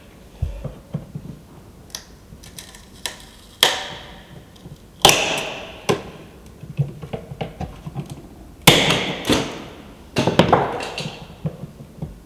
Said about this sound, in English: I'm now going to just use a chisel to help prise the perspex off the epoxy